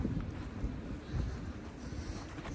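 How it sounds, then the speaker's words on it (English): Wind blows at the seaside at Aireys Inlet, Victoria, Australia, with the tide out. The wind buffets the microphone as a low, rumbling roar that stays fairly faint and steady, with no voices. "Windy."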